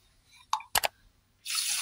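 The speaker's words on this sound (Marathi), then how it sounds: "पाणी पण असं टाकणार आहे" A few sharp knocks and clinks, then a rush of water pouring into a pan of sugar for gulab jamun syrup, fairly loud and close.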